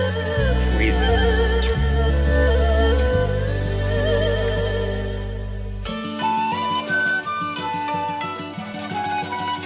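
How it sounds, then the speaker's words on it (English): Video game music from Etrian Mystery Dungeon, with a violin melody over a layered arrangement that shifts partway through to a brighter, plucked pattern, loud and continuous without talk. "that violin sounds crazy"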